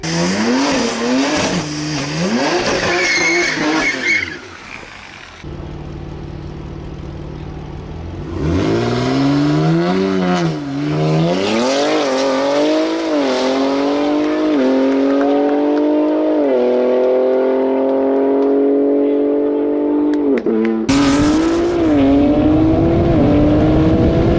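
A new BMW M3 G80 and a Tesla Plaid race from a standstill, a loud engine roaring and climbing through several gear shifts over a long stretch, close and steady.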